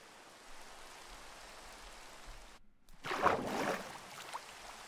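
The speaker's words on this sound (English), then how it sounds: "I don't think I've ever seen it rain." Steady rain falls in a video game, a soft even patter that swells louder and denser in the second half, with no talking.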